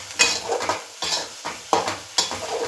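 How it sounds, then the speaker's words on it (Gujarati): A spoon stirs a bottle gourd and milk mixture in a pan, Gujarati-style cooking for dudhi laddu, making about five scraping strokes at a steady rhythm with light clinks against the metal, close and fairly quiet, with no voices. "હવે સરસ રીતે એને આપણે મિક્સ કરીશું."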